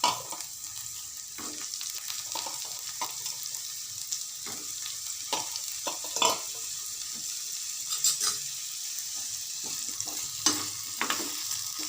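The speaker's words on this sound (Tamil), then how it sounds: "மாங்காய் துண்டுகளை போட்டு நல்லா வதக்கணும்" Mango pieces sautéed in a pan for chutney, a continuous moderate sizzle broken by frequent stirring clicks and scrapes of the spoon.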